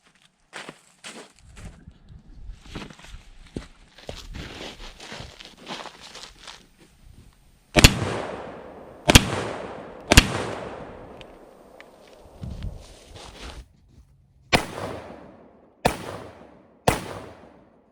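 Rifle shots strike an AR500 steel target outdoors, each sharp crack ringing out with a metallic decay; early irregular quieter impacts and rustling give way to about six loud, widely spaced hits.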